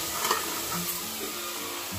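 Spiced masala sizzling in a pan as whole black masoor lentils are added, a steady frying hiss with faint stirring under a quiet tonal background hum.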